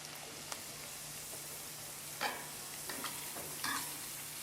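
Dough frying in hot liquid lard for Italian chissulìn bread pillows, a steady low sizzle with a few brief louder crackles and stirring bursts, no voices.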